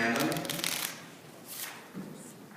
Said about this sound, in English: if you shuffle the deck 7 times, it's random